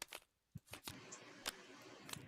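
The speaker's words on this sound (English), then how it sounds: "So we flip this deck, and I shuffle it" Board game cards from a Lord of the Rings cooperative game are shuffled by hand, producing a few quick papery riffles and snaps, fairly quiet and close, separated by brief pauses with faint room noise.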